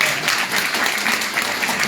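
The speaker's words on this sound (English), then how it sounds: "So can we get a round of applause for them?" Attendees at a community council meeting inside a church clapping for the council members, a steady, dense burst of applause from a roomful of people, close and sustained.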